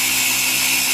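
A blender whirs steadily at high speed, whipping cream on its way to becoming butter; a continuous loud, even motor whine, close up, with no voices.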